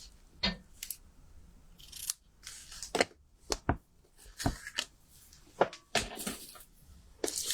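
Scissors trim card stock during handmade baby card making, a series of close, crisp snips and paper rustles spaced irregularly, with quiet gaps between cuts.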